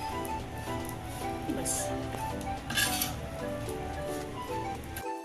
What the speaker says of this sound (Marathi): सुकट आहे ती आता थोडीशी अशी भाजून घेते